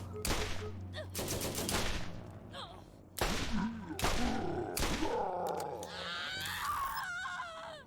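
Bursts of gunfire from a dropped turret in the Borderlands video game, loud rapid volleys broken by short gaps, with growls, grunts and other game effects in between.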